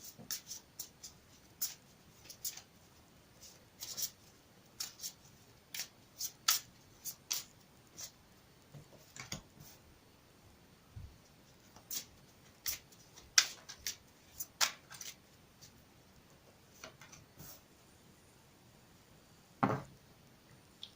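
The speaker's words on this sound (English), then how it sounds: "I will shuffle it again for you on camera." Soft, quiet riffling and tapping of tarot cards being shuffled, in short irregular bursts with pauses between, close and faint.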